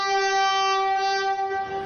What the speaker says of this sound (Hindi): ये मेट्रो ट्रेन का पहला ट्रायल शुरू हो चुका है